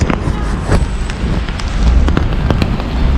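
Steady rain pours onto a street in Chinatown, New York City, a dense hiss with scattered sharp drops and splashes close by, as traffic rumbles faintly underneath and no one speaks.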